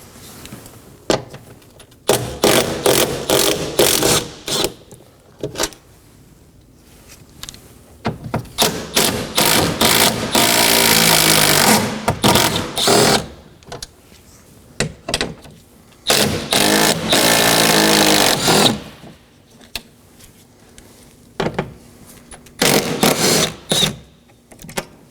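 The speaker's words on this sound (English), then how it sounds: "Now I'm going to go ahead and remove all 6 10mm fasteners" A ratchet works the 10mm bolts and nuts off a Chevrolet Equinox front door in loud, close bursts of rapid buzzing clicks, separated by short pauses and softer handling noises.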